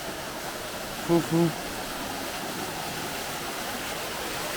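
Water rushes continuously at a hidden waterfall or stream in a Tunisian oasis, a steady, even broadband roar; a voice says a brief word over it.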